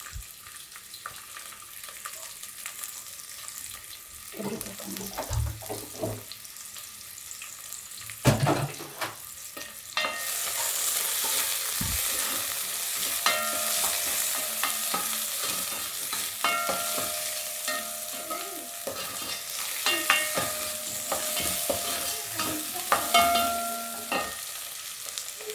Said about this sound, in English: So I'm going to fry this just for also about a minute.